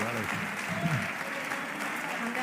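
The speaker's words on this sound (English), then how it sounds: "Oh, really appreciated by the crowd, that one." Spectators at a professional women's squash semi-final applaud a shot, steady close clapping throughout, with a commentator's voice talking over it.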